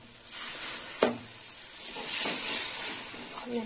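Okra being stirred in a pan with poppy seed paste, a steady sizzling hiss with occasional scraping stirs of the spoon against the pan.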